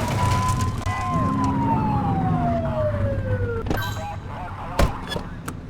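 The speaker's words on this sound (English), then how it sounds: "Get behind them and flip the siren and make it pull" A police car siren in The Precinct video game wails in a long falling sweep over a steady low rumble, close and loud, then breaks off into background noise with a sharp knock near the end.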